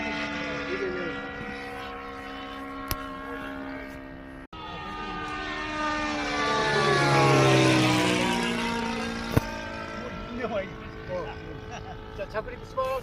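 A glow-engine radio-control model of the Shinden fighter plane flies overhead. Its buzzing propeller drone rises and sweeps past with a clear Doppler shift, then fades toward landing, with a few voices nearby.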